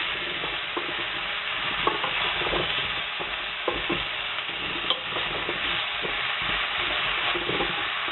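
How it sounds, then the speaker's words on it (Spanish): Pumpkin pieces sautéed and stirred in a pan, continuous sizzling under repeated scraping strokes of a utensil against the pan, steady and close throughout. "Vale, rehogamos."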